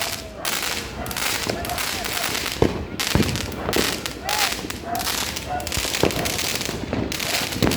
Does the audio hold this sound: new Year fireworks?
yes